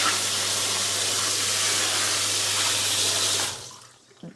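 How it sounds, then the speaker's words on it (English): Shower head spraying water steadily at close range while a muddy dog is washed in a hydrobath, a loud even hiss of spray that cuts off abruptly near the end, leaving quiet dripping. "This has got the old shower head on. So we're going to turn to wash."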